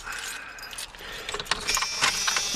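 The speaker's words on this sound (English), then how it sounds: "I got my keys over here." A set of truck keys jangles and clinks near the driver's seat of a 1993 Dodge D-250, metallic rattles rising in bursts over about two and a half seconds, close and fairly loud with no talking.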